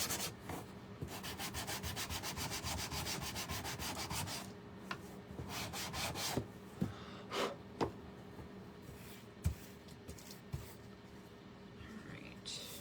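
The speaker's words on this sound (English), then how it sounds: "sand it. Just sand it." Sandpaper rubs over a small wooden stand in rapid, even back-and-forth strokes up close, then slows into scattered separate scrapes and taps.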